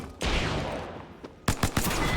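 Peacekeeper shotgun fire in Apex Legends: one loud blast with a rumbling tail, then a rapid cluster of sharp, punchy shots close together.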